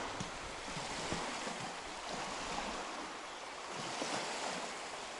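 A muddy, clay-laden brown river current washes past near a forest bridge on the Lymva river, a continuous broadband rush with gentle swells, wind buffeting the microphone, no talking.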